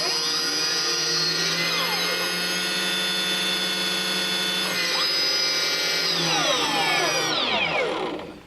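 Motors of a new hexacopter whine at high pitch, their sweeping tones rising and falling together as the props spin and slow down, steady and close, fading out near the end.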